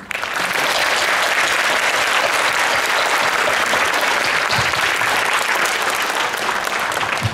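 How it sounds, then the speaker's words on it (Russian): Loud, sustained applause from an audience fills the hall as the first Five Continents global forum opens, steady dense clapping with no pause throughout. "为这次论坛成立热烈的鼓掌吧"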